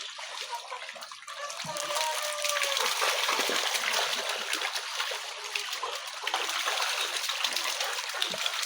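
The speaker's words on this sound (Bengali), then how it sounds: "পাড়াপাড়ি করে খাবার খাচ্ছে।" Magur catfish of over two kilograms thrash at the surface of a farm pond while feeding, giving repeated close splashes and trickling water in an irregular, churning rhythm.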